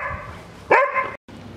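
A dog gives a single sharp bark near the middle of a short stretch of quiet room noise, close and fairly loud, followed by a brief dropout.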